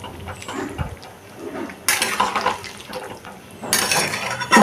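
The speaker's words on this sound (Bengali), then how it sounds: "আমি এখানে মিক্সি বাটিটা ধুয়ে একটু জল দিয়ে দিয়েছি।" Water rinsed out of a mixer grinder jar is poured into a cooking pan of papaya and potato curry, splashing in bursts with metal clinks and a quiet kitchen in between.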